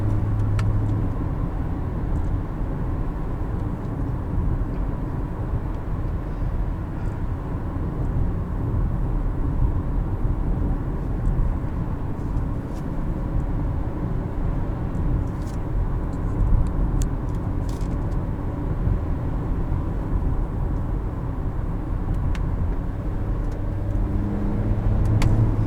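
Acura TLX from 2019 under acceleration, its engine note shifting around 5000 rpm, heard as a steady loud drone from inside the cabin with road noise throughout.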